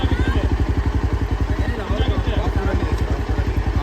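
A motorbike engine running off-road nearby with a steady rapid pulsing throb and clattering mechanical texture, loud and continuous, while a person talks over it.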